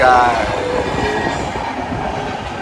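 A train rumbles past close by near Kochi airport, a steady rolling clatter of wheels on rails with a brief high squeal at the start.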